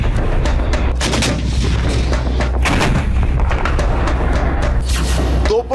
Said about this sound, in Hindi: तोपों की धुआंधार बमबारी